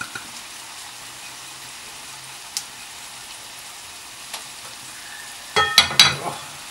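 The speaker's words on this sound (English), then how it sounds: "So I'm going to move to the spoon now. Stir all of this in." Chicken wings seasoned with onion powder, garlic powder, salt and pepper sit sizzling softly in a frying pan, with a few faint ticks before a burst of loud scraping spoon strokes near the end.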